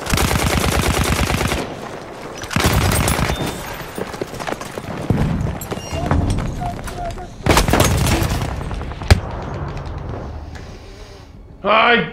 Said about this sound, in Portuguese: Caramba, que sensação que tem alguém atirando aqui